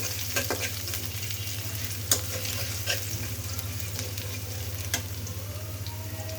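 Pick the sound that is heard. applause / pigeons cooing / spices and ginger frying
spices and ginger frying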